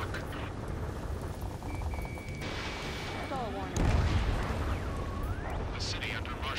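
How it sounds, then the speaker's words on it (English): Video game combat in a city under martial law: a dense, rumbling barrage of gunfire and jet roar fills the scene, with a heavier boom partway through and thin whining tones drifting over the constant din. "Gunfire and the roar of jets echoing through the streets."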